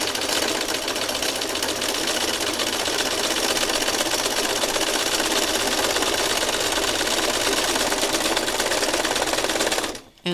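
A sewing machine stitching circles runs in a fast, steady mechanical chatter for about ten seconds, loud and close, then stops abruptly.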